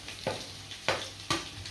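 Sliced onion frying in a pan for a chicken wing dish with tomatoes, crackling steadily with three sharper stirring scrapes spaced apart, close and fairly quiet.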